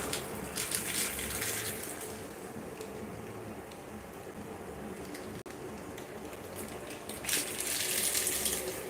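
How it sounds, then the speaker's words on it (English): Water pours steadily into a cooking pot of jollof rice with a hissing, splashing rush that swells louder toward the end; no talking. "So now I'm going to add my water."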